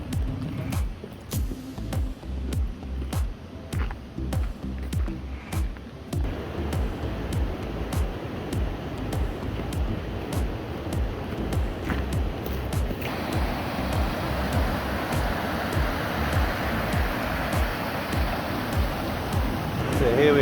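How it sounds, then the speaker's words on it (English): Rushing water at the top of Wappa Falls pours as a steady broadband roar throughout, with irregular clicks and knocks up close early on, and the wash grows fuller and brighter in the second half. "you can see in the background there we're at the top of the waterfall"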